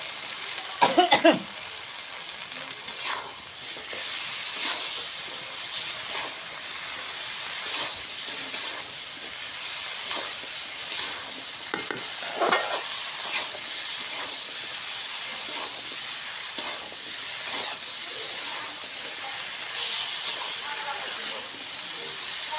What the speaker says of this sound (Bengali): কালাইয়ের সাথে ঢেঁড়স কুচি দিয়ে দিলাম